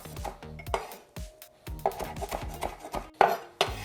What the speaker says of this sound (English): I also have some cilantro, and we're just going to rough chop that.